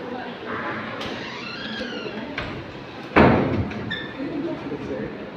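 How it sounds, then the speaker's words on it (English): A hotel room door swings shut with one sharp, loud thud during a room-service breakfast delivery, while a staff member and a guest talk before and after it. "Close the door, please."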